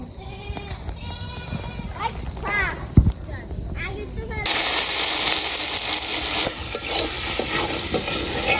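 Tender young greens stalks are stir-fried in a pan in a village kitchen: a sudden, steady, loud sizzle rises midway and holds to the end, following a stretch of nearby talk with animal bleats.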